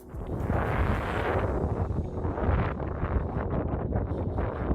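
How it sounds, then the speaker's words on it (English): Strong tornado winds in the Atyrau region of Kazakhstan roar steadily, with heavy gusting buffeting the microphone throughout and no voices. "Tornado in Atirau region, Kazakhstan."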